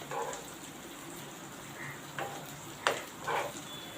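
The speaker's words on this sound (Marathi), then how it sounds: "दोन्ही साईडने काप चांगले फ्राय करून घ्यायचे" Slices of suran (elephant foot yam) shallow frying in a pan make a soft, continuous sizzle, broken by a few brief scraping clicks as pieces are turned.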